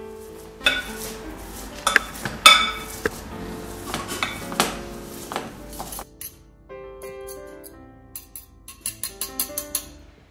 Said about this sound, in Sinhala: මම මේක පොඩි කරගන්න හොඳට මේක පොඩි කරගන්න